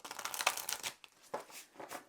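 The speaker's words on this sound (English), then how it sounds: "So I'm going to give these a quick shuffle." A tarot deck is riffled and shuffled by hand in a few quick, crisp bursts with short pauses between, close and fairly quiet.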